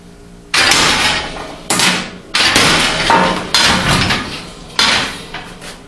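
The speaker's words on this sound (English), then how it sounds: "I pick up this pretty heavy farrier's hammer, and then I match it right smack in the middle." A heavy farrier's hammer striking a treadle hammer in a metal shop: five loud, close metallic blows spaced about a second apart, each ringing out and decaying before the next, with no talking.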